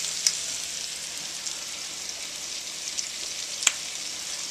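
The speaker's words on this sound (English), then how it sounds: "We're going to let this cook for about 15 minutes because we want the onions to start sweating" Onions cook in butter in a pan with a soft, steady sizzle and occasional faint pops, quiet and continuous with no voices.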